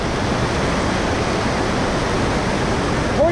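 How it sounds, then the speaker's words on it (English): Horsetail Falls, a waterfall on a Utah hiking trail, roars steadily and loudly up close, a dense continuous rush of falling water filling the whole clip without a break. "But I want to get you guys right into this waterfall because it's amazing."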